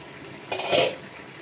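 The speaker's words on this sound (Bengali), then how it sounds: "এখন ঢাকনাটা উঠিয়ে দিচ্ছি।" Metal lid lifted off a cooking pot of banana flower and prawns, a brief scraping clatter rising over a quiet background of low simmering.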